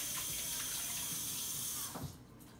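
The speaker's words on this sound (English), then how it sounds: "Let me wash these hands." Water runs steadily from a tap as hands are washed, a close, even rushing stream that cuts off near the end, leaving a few faint drips and quiet movement.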